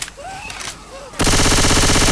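Rapid automatic gunfire erupts in Left 4 Dead 2, a loud sustained burst of shooting that cuts in abruptly after a brief quieter stretch of game sounds.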